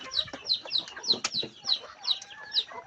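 Chickens cluck in a steady series of short, fairly faint calls near by while being fed on a farm, one sharper squawk mixed in among them.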